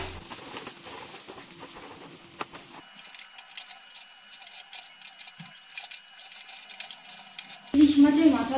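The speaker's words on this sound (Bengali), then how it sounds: "ভালো করে নাড়াচাড়া করে নিচ্ছি। চিনিটা আমি কচুর শাকের মধ্যে মিশিয়ে নেব।" Taro leaves cooked with hilsa fish head and a little sugar are stirred in a pan over low to medium heat. A soft, uneven sizzle carries occasional scrapes, and the sound grows louder and busier near the end.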